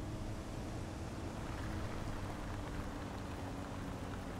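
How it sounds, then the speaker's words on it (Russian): Heavy rain in Bus World pours steadily as a dense, even hiss of falling water, constant and fairly loud throughout, with a low rumble underneath and no voices. "просто такая же с неба падающая вода"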